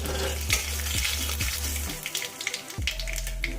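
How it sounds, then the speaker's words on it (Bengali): Half a teaspoon of nigella seeds hit hot oil beside a fried dried red chilli, making a crackling sizzle punctuated by rhythmic stirring taps, briefly dropping out before the frying resumes. "এখন দিয়ে দেবো 1/2 চা চামচ কালো জিরে"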